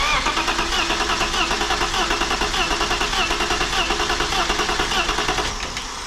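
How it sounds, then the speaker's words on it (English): A BMW E36 with an idle problem that keeps dying cranks steadily for about six seconds, the starter's rapid rhythmic churn loud and close, running alone and slowing slightly near the end. "We are going to try to crank it."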